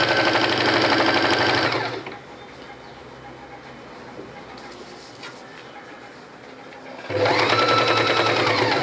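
Electric sewing machine stitching a pattu pavadai top, running in a loud steady whir for about two seconds, falling quiet for several seconds of low room noise, then starting up again at full speed.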